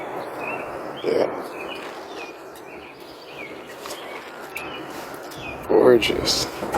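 Birds chirp outdoors near a waterfall, with faint calls scattered through the clip under steady background noise and occasional talking.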